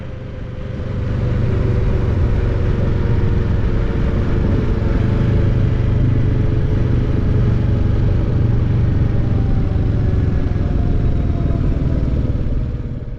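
Royal Enfield Classic 350 motorcycle riding along a country road toward the Borders, its engine rising in from near silence to a steady, loud, low thumping rumble that holds with wind noise throughout.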